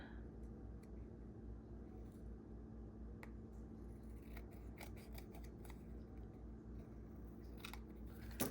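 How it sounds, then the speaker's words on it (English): Scissors snip through paper trimming an overhanging planner insert, a quiet series of irregular crisp cuts at close range with faint handling noise and no talking. "there's a little bit of an overhang, so I'm gonna have to cut it."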